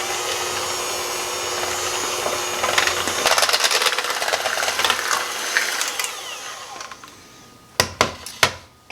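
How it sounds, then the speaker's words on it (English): Sweet potato souffle mixture for a Thanksgiving side dish being mashed and stirred in a bowl, a steady scraping and clattering that turns into a burst of louder knocks and a few sharp utensil taps near the end. "Let's kind of give this a little mash and then we're going to mix it up."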